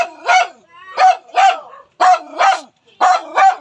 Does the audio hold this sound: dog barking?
yes